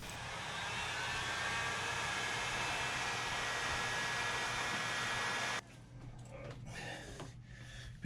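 A heat gun warms heat-shrink tubing on boat wiring with a steady, close, breathy blowing roar that runs for several seconds, then cuts off, leaving quiet room tone with faint handling sounds.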